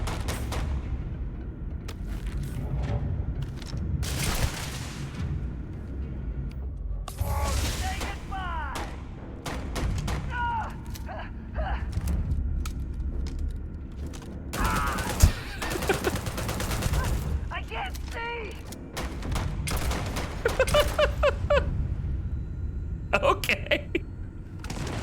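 Rapid bursts of gunfire from the video game Starfield, loud and repeated in clusters with booming impacts and sci-fi weapon effects, mixed with game sound throughout.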